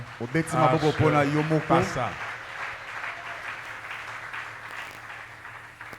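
At a French-language church gathering, an audience bursts into cheering and applause, with voices rising loudly at first before settling into a sustained wash of clapping that slowly fades.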